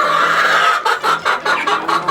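Chickens cluck loudly nearby in a quick series of bursts, drawn-out calls giving way to choppy, rhythmic clucks.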